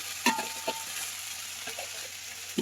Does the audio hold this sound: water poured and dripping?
no